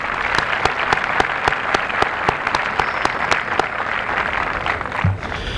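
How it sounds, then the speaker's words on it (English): A high school commencement crowd gives a collective round of applause, loud and continuous, with a few sharp individual claps standing out above the dense wash before it fades slightly at the end. "Can we give those folks a collective round of applause?"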